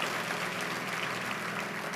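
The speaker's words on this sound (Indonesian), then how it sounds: "Tepuk tangan yang paling meriah buat Tuhan." A church congregation applauds during a sermon, a steady wash of dense clapping from many hands that holds level throughout, heard from a moderate distance with no voice over it.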